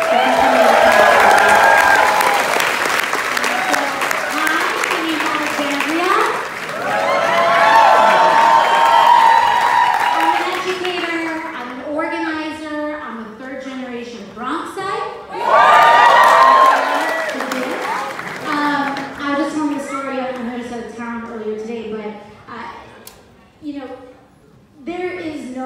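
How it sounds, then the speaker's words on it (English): A large crowd at a rally in San Francisco bursts into applause and cheering with whoops, loud at first, then easing as a voice speaks over the fading noise. "give yourselves a round of applause"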